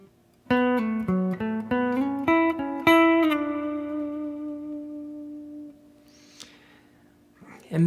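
Electric guitar plays an answer lick from a song: a quick run of plucked, sliding and pulled-off notes ending on one long sustained tone that rings out, followed by faint handling noise.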